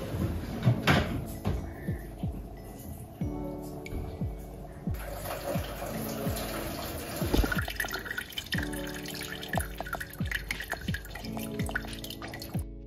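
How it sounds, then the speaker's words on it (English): Water drips from a freshly watered potted houseplant into a pink basin set beneath the pot, with repeated small drips and light clatter at moderate, close range. "I water it so the water drips and catches into this and doesn't make a mess"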